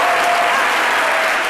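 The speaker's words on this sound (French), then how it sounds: "Applaudissements." Studio audience applauding on a French midday TV talk show, a dense, steady wash of clapping that holds at full volume from start to finish with no voices above it.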